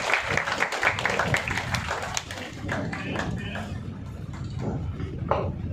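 Scattered audience clapping at an award ceremony of a Tiruchirappalli astrology trust's triple celebration, brisk and uneven, with individual claps standing out early and then thinning as the applause continues under a busy room.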